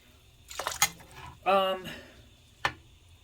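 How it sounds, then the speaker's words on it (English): Water poured into a pot of rice while cooking, heard as a brief splash and trickle amid metallic clinks of a spoon against the pot, with a final sharp tap at the end. "I add enough water to where I can still see the rice"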